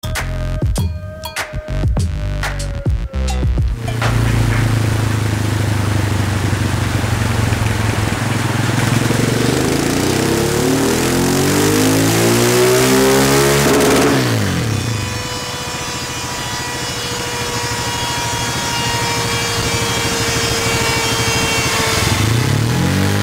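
A car with a drilled intake lid, three 30 mm holes in the front, cranks with quick clicks, catches, then revs hard and climbs through rising sweeps of engine pitch before settling into a loud, steady high-rev drone with no talk.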